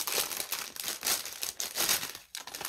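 Continuous crinkling and crackling of a plastic cracker packet being pulled open, with sharp bursts and brief pauses, close up and fairly loud.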